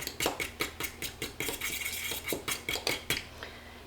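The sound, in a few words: mixing egg and vinegar in a bowl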